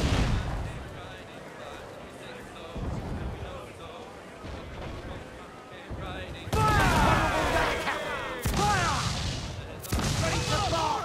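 Ship cannons fire in Assassin's Creed IV: Black Flag, loud booming broadside blasts with crackling debris at about 6.5, 8.5 and 10 seconds over a rumbling sea-battle bed, with someone talking throughout.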